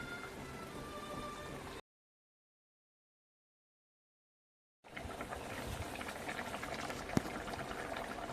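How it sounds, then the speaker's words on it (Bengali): Fish curry with green plantain and potato boils in a pot, a steady bubbling simmer that runs for about two seconds, cuts to silence, then returns louder and fuller for the last few seconds. "মাছের ঝোলটা ফুটছে,"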